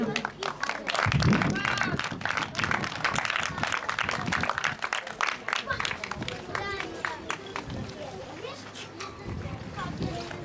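An audience claps steadily at an award ceremony for an Optimist and Laser class sailing regatta, with an announcer's voice heard over the sustained applause.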